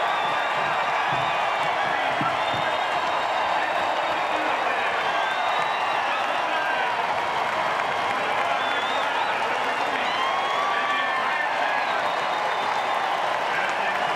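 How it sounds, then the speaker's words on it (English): A huge grandstand crowd at the 2009 Indianapolis 500 cheers and applauds in a continuous, dense roar that holds steady throughout, with scattered whoops rising above it. "Listen to the crowd"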